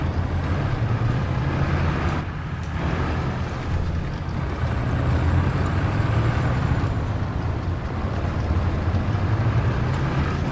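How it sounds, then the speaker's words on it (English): Tank engine in the War Thunder video game, a loud continuous low rumbling drone with a brief dip partway through, steady and close throughout with no voices. "His engine is so loud and deafening"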